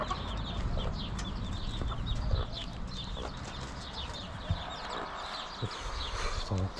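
Chickens cluck and squawk steadily at a village farmyard, several birds close by in a busy, continuous chorus with no talking.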